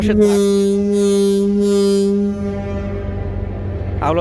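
A passenger launch ship sounds its horn in one long, loud, steady blast that cuts off after about two seconds, leaving low engine rumble and ambient noise.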